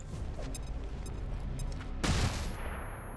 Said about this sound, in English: Let's throw a flashbang.